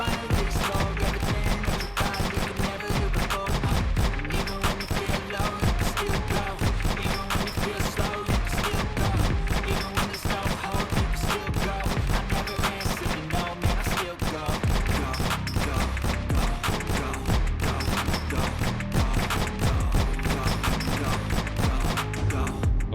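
Rapid, dense gunfire from aim practice in Aim Lab keeps up without a break, with sharp shots clicking off one after another at a steady, loud level throughout.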